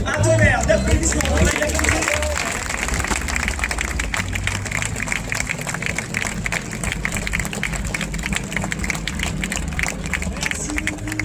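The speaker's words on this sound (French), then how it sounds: "pour le dernier passage, un tonnerre d'applaudissements" A large outdoor crowd at an airshow in Biscarrosse breaks into dense, sustained applause for the final pass, a continuous patter of many hands with a murmur of voices underneath and someone talking at the start.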